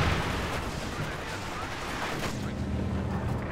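Mortar pit firing in a video game tournament match, heard as a continuous dense rumble of distant artillery booms and gunfire with no clear gaps, steady and moderately loud throughout.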